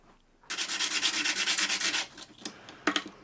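A brass face is roughened by hand sanding ahead of gluing, giving a rapid run of close, loud rhythmic rasping strokes for about a second and a half, then a few scattered scrapes.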